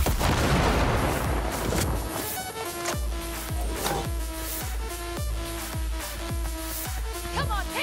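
A grenade blast and rapid gunfire from the video game Cyberpunk 2077 in a firefight, with dense booming at the start giving way to repeated sharp shots and ringing game sound effects throughout.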